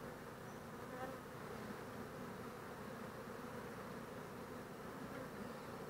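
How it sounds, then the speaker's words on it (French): Dense buzzing of honeybees, including a drone, at an open hive frame holding pollen and brood, a steady close drone with no pauses. "Un faux bourdon."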